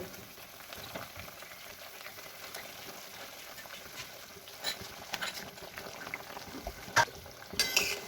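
Jackfruit kofta gravy simmering in a pan, a soft continuous bubbling and sizzle at low level, with a few louder pops and splutters toward the end.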